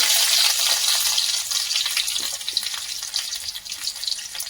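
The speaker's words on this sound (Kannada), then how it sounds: "ಎಣ್ಣೆ ಕಾದಿದೆ. ಈ ಸಂದರ್ಭದಲ್ಲಿ 2 ಲವಂಗ ಮತ್ತು ಚಕ್ಕೆನ ಹಾಕ್ತಾ ಇದ್ದೀನಿ." Two cloves and cinnamon sizzling in hot oil in a pan, a loud, close, bright hissing crackle that fades slightly as it goes on, no voices.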